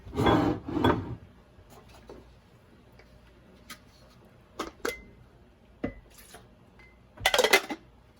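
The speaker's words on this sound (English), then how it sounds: "I'm gonna dump our cannellini beans" Canned cannellini beans tip into a cooking pot for a plant-based pink sauce, making a soft wet splattering rush at the start, then scattered light clinks and taps of the pot, and another short sloppy burst near the end.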